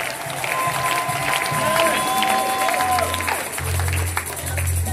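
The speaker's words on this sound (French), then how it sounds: "Si tu crois cela, tu acclames pour le Seigneur Jésus." Church congregation cheering and acclaiming, a broad crowd roar with scattered shouts and clapping that swells and holds throughout, with low rumbling and a faint voice mixed in.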